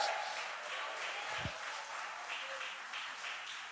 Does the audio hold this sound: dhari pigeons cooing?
no